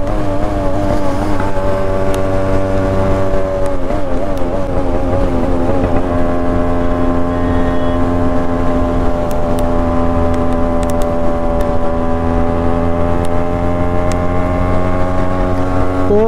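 A steady, loud engine drones continuously with shifting harmonic pitch, a Yamaha RX135 motorbike running at speed, with wind rush and no talking.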